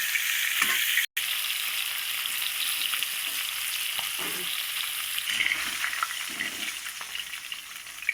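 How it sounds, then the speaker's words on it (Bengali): Pieces of chital fish fry in a pan with a continuous moderate sizzle, marked by a few faint scrapes and one brief dropout, with no voices. "বাদবাকি মাছটা আমি ঠিক একই রকম ভেজে তুলে নেব।"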